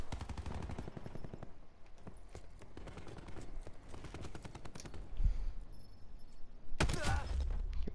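Rapid automatic gunfire from the shooter video game Black Ops 4 comes in repeated bursts of sharp cracks. Louder blasts and impacts follow later, mixed with faint game effects.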